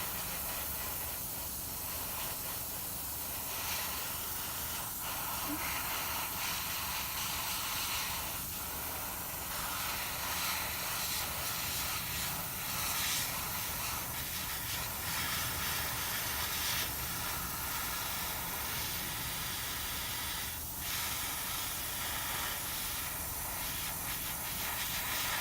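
An airbrush blows a steady, soft hiss of air to dry paint on a miniature, continuous and close with slight fluctuations and no talking.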